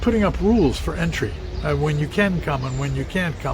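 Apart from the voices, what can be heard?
No distinct noise like a dog, phone or traffic.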